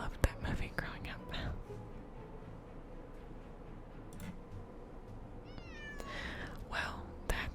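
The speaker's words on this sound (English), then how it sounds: "I hear the cat meowing." A cat meowing close by amid whispering, with a couple of drawn-out, rising meows near the end over soft rustles and clicks.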